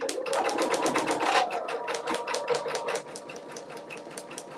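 An embroidery machine stitches a design onto a beanie, its needle hammering in a fast, steady, close-up rhythm that slows slightly toward the end.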